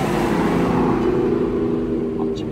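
A car driving past on a neighbourhood street, a loud steady engine and tyre roar close by with a sustained hum, no talking.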